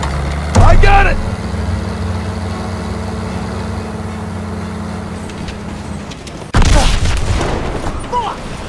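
Two heavy booms from a grenade explosion in Call of Duty WW2, one early and one late, loud and close over a rumbling jeep engine, with shouting voices in between.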